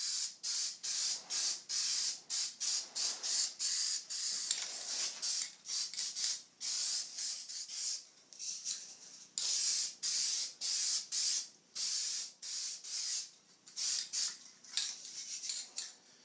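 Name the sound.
spray painting mount with flat black paint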